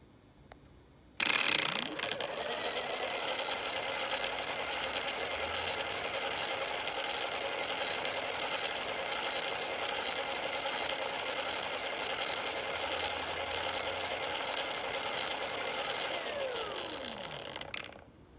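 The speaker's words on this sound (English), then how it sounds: "the button that starts the test is right here, launch motor spinning test" A BBSHD mid-drive e-bike motor run through a spinning test from a Phaserunner controller starts abruptly and whines steadily at full speed with a mechanical drone for about sixteen seconds, then winds down at the end; no talking.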